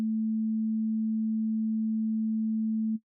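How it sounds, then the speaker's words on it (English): A Six Sines synthesizer holds one steady, pure low sine tone for about three seconds, unchanging in pitch and loudness, then cuts off cleanly into silence. "I'm going to play a note, I'm going to change the dial, and you will hear that nothing changes."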